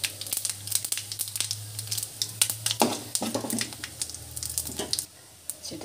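Mustard seeds and cumin with dried chillies in hot oil, a close busy sizzle with rapid popping crackles, fading near the end, with no voice.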